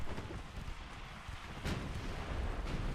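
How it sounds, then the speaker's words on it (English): A torpedo striking a warship in Ultimate Admiral Dreadnoughts, a deep rumbling boom with a sharper burst partway through, over a continuous roar of battle noise. "Look at that fucking torpedo come from out here and hook in and hit me anyway"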